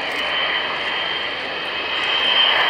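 Avro Vulcan XH558 jet bomber at an air display at Waddington, a loud steady roar of jet engines with undercarriage down, sustained and slightly swelling toward the end, no talk.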